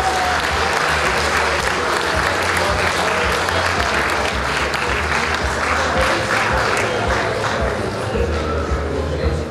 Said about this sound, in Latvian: vēlreiz sirsnīgi aplausi viņam